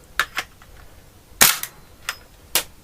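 A chrome stainless Tokyo Marui Desert Eagle 50AE airsoft pistol fires sharp, snappy single shots, close and dry, with a couple of lighter clicks between them and no talking.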